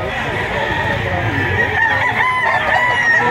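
A rooster crows loudly and close at a busy chicken market in Lipa, Batangas, with clucking fowl and the murmur of people talking in the background throughout.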